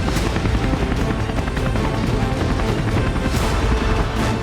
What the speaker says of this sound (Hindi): इजरायली हेलीकॉप्टर ने कई राउंड लगाए।